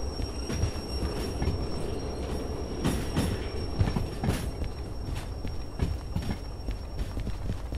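Locomotive braking in the train simulator game Derail Valley: steady rumbling rail and wagon noise with intermittent wheel squeal and metallic clunks, continuous and fairly loud, no voices.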